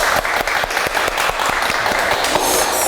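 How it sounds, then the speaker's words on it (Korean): Students in a lecture hall applaud to welcome a professor of electrical and information engineering, a loud, dense burst of clapping that carries on without pause. "학생 여러분 박수 부탁드릴게요."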